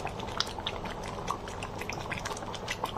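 Bottle gourd and lentil curry simmers in a covered pot with a steady, close bubbling and soft popping that continues evenly throughout.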